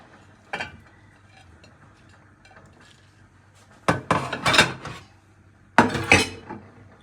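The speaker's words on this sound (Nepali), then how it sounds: "यो भाँडामा चाहिँ अब सुकुटी चाहिँ फर्स्टमा हालिदिने।" Dried meat (sukuti) dropped into a metal cooking pot for a Bhutanese shakam datshi dish: a single clink, then two bursts of rattling, clattering pieces against the pot, close and fairly loud with quiet pauses between.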